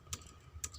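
Two light, quick keystrokes on a computer keyboard while entering a network configuration command, soft and close, separated by a short pause over faint room hiss.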